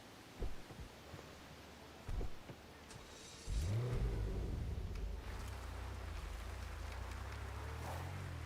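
A car in a video game starts up and drives off with a rising engine rev, settling into a steady low hum, after a couple of short thumps.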